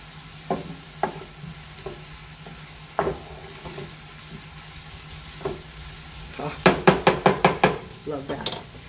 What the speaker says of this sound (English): Give them a quick little stir.